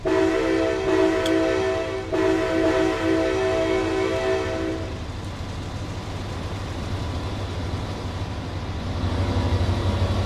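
A train in the Trainz video game sounds a long, steady multi-tone horn for several seconds, then rolls past with a continuous rumbling roar that stays loud and near to the end.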